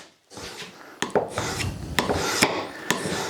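A blade is drawn over a Trend diamond sharpening plate in a series of close, gritty rasping strokes, each one starting with a sharp scrape and then sliding away in a rough rub.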